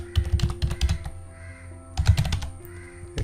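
Typing on a computer keyboard: two close, busy runs of rapid key clicks separated by a brief pause, with a faint steady hum behind.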